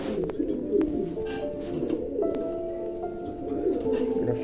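Fancy pigeons at a pigeon farm coo repeatedly, with soft overlapping throaty calls from several birds close by and faint scattered chirps.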